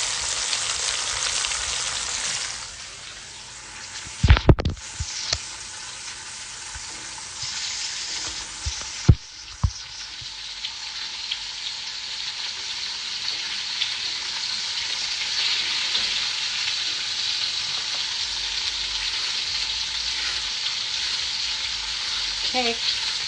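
Beef stew meat fries and crisps in a hot pan, a steady dense sizzle running throughout with a few sharp clatters of stirring near the start.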